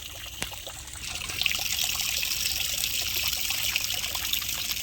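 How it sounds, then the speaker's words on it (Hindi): Water from drip irrigation on a banana and watermelon farm trickles and gurgles steadily outdoors, a continuous soft flow with faint clicks and no talking. "ये देखिए ड्रिप इरिगेशन से हमारी सिंचाई चालू है।"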